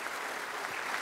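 Audience applause after a young preachers' competition performance at the Daie Muda YADIM 2020 stage event, a faint, even wash of distant clapping with no distinct individual claps.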